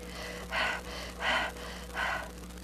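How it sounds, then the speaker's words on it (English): Deep breaths in and out through the mouth, three slow, airy exhalations in a steady rhythm, close and alone over a faint low hum. "You're breathing through, in and out through your mouth."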